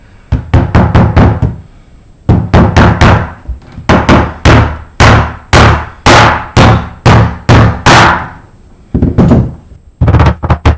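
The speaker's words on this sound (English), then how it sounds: "when I knock this nail in" A hammer drives a nail into floorboards with a long series of loud, sharp knocks close by, struck in quick bursts of several blows separated by brief pauses, with no talking.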